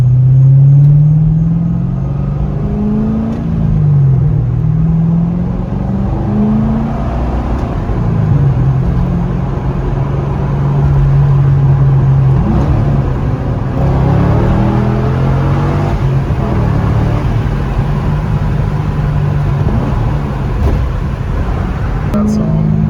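A Corvette C6 Grand Sport with an SLP Loudmouth II catback exhaust idles and revs gently, giving a steady, close, low rumbling drone whose pitch rises and dips a few times while people talk over it.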